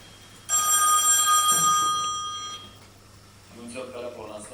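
A telephone rings loudly with a bright electronic trill for about a second and a half, then stops as an answering machine takes over, with a voice talking nearby.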